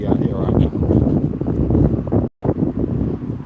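Wind buffets the microphone outdoors during a Pokemon GO session, a loud, continuous low rumble with a brief dropout, while a person talks over it.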